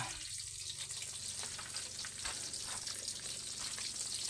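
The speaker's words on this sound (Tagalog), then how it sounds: "nagpiprito po ako ng 5 pirasong kalapato" Constant crackling sizzle of five pigeons frying in a pan with hot oil, close up and steady, no voices.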